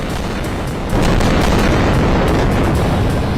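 A phosphorus bomb bursts over Gaza with a loud, sudden boom that jumps in level partway through, then a dense, roaring rumble and crackle sustained to the end.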